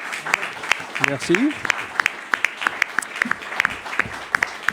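Small studio audience giving a brief round of applause, scattered claps under a voice as he speaks in French.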